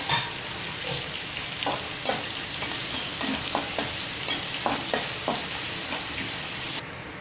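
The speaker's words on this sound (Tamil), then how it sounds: "இப்போ நம்ம கட் பண்ணி வச்சுருக்க வெங்காயம், கருவேப்பிலை சேர்த்திக்கலாம். வெங்காயம் நல்லா வணங்கட்டும்." Chopped onions and curry leaves frying in a pan for egg curry, a steady close sizzle broken by repeated scraping stirs, with no voices.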